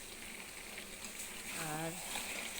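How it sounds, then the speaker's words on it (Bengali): Meat is being sautéed (kosha) in a pan, giving a constant sizzle close by. A voice cuts in briefly over the frying toward the end. "এই যে মাংস হচ্ছে, মাংস কষানো হচ্ছে এখন।"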